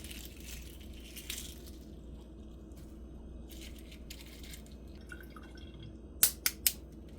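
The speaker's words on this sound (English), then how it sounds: "when I crack the egg right here at the top instead of on the side, the shell comes off a lot easier" Egg shell cracked at the top against a hard edge, a few sharp close taps near the end after a quiet kitchen stretch, with leftover salad and avocado being prepared.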